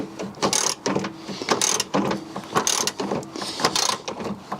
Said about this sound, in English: we'll just keep loosening this off until we get the nut free